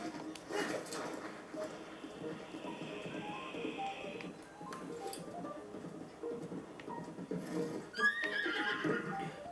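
A horse whinnies amid ongoing game sounds in The Legend of Zelda: Breath of the Wild, with soft hoof clops and clicks over a steady background bed.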